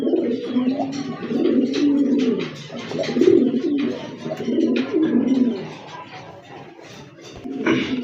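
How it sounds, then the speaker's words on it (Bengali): A big-size pair of pigeons coos loudly and close by in repeated rounds of low, throaty, burbling calls, with brief pauses between bursts and a little rustling in the background. "বিগ সাইজের এক জোড়া কবুতর"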